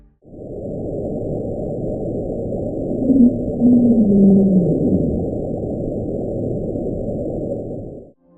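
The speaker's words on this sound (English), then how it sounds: "it's the sound of friction coming from a gigantic iceberg running" A deep, continuous underwater rumble drones throughout, with a brief wavering, descending moan rising out of it near the middle: friction from a gigantic iceberg, recorded in 1999 in the eastern equatorial Pacific Ocean, sped up 16 times.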